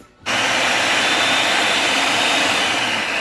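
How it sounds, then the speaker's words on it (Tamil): Mixer grinder whirring loudly as it grinds chana dal with ginger and garlic, starting abruptly and running as a steady, dense motor roar. "இப்போ நாங்கள் இந்த பருப்போடு சேர்த்து உள்ளியும் இஞ்சியும் அரைக்க போகிறோம்."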